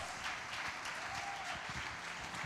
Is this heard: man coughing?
no